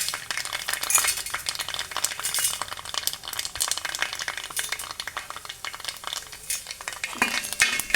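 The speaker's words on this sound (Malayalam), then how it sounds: "നമുക്ക് കടലപ്പരിപ്പ് ഇട്ട് കൊടുക്കാം." Chana dal hits hot oil in a pan, sizzling steadily up close while a spoon stirs and scrapes with quick irregular clinks throughout.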